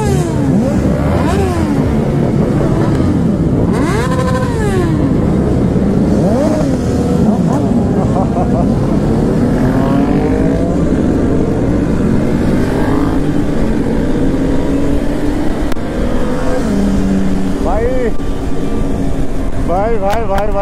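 Superbikes roaring past at a race event in Nepal, a loud continuous engine wail with rising and falling revs as machines fly by one after another, dense and close throughout.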